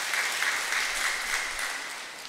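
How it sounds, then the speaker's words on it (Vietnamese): A Catholic parish congregation at a Lenten retreat claps together in a full, steady round of applause, many hands blending into a continuous wash that eases off slightly near the end. "vỗ tay một tràng khích lệ những người này"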